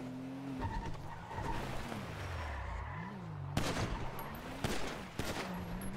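Gunfire in a GTA roleplay game: sharp broadband cracks in the back half, a few close shots amid revving car engine noise and tire skids, no talk.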